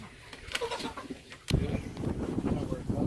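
Meat chickens on a farm cluck and squawk just before being put into killing cones for butchering, short bird calls heard close by under people talking.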